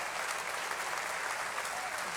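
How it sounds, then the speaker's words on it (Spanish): A church congregation claps in a steady, dense wash of applause, sustained and even throughout with no speech on top. "aplauso ao Senhor"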